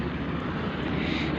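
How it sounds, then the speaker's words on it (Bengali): An airplane passes overhead outdoors, making a steady, broad engine roar that holds at an even loudness for the whole short stretch with no voices. "ও দেখেন গাইস প্লেনটা যাচ্ছে কি সুন্দর করে।"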